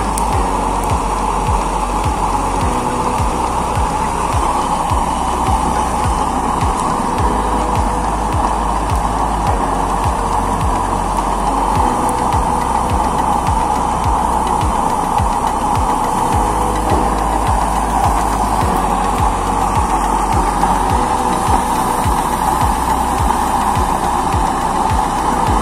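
A steady, loud mechanical whir with a low hum drones on without pause from a gas stove's blower fan running close by.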